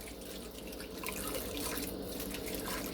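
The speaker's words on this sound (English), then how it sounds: "Pour your sauce all over" Sauce is poured over pork chops and apple chunks layered in a crockpot, a soft continuous wet pouring and dribbling with scattered drips, fairly quiet and close.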